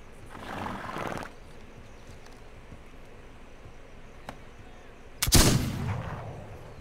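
Gunfire in the video game This Land Is My Land: a faint earlier rumble and a brief crack lead up to one loud, close rifle blast near the end, which trails off in a rolling echo.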